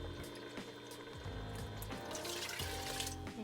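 Liquid, the third of five cups of stock, pours steadily into a pot of risotto, a continuous splashing trickle with faint clinks.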